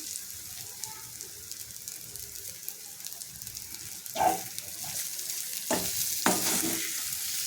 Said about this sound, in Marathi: तर ह्याच्यामध्ये आपण सर्व डाळ जी वाटून काढलेली आहे ती टाकून आपण भाजून घ्यायचं आहे